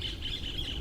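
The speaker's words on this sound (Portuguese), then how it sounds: "Olha o passarinho cantando, que coisa bonita." Outdoor birdsong with short repeated high chirps, steady and fairly close, heard over a continuous background hum with no one speaking.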